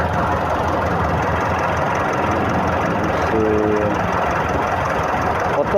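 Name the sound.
Mitsubishi Pajero engine idling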